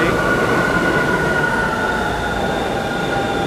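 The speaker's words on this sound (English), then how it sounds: "Getting off of the subway stop, the R train." A Brooklyn-bound New York City subway R train rumbling loudly at close range, with a sustained metallic squeal from the wheels over a steady roar.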